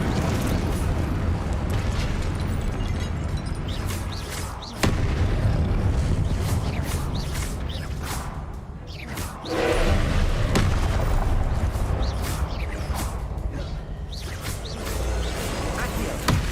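Fire spell effects from Hogwarts Legacy roar continuously as dense, loud booming bursts, with a sharp blast near five seconds and another surge around ten seconds.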